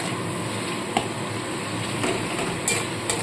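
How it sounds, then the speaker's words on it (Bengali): A spoon stirs ground spices with tomato and sugar in a pan for a vegetarian mock fish curry, making soft continuous scraping with a few light taps against the pan. "ভালো মতো এবার এইভাবে মিশিয়ে নিতে হবে।"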